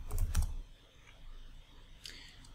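Quick keyboard typing on a computer, entering a domain name into a configuration field, with a short burst of clicks at the start and a few lighter taps later, close and clear with no talk.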